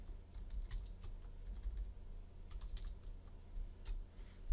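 Rapid keystrokes on a computer keyboard while entering a Stata describe command, a run of light, close clicks with brief pauses in a quiet room and no voices.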